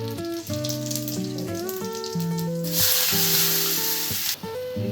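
Cumin, salt and turmeric sizzle in hot oil for vagharelo rotlo, a close, loud crackling fry that swells into a bright hiss midway, with sustained musical tones running underneath throughout; no voices.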